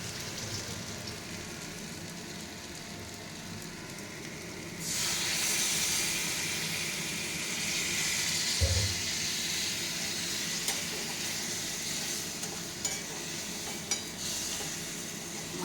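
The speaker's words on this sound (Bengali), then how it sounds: "কাতলা মাছের মাথা। সামান্য জল দিই।" Catla fish heads sizzle in a hot pan, a steady broadband hiss that swells louder partway through as a little water is added, with a few faint clanks and stirring sounds over the continuous steam.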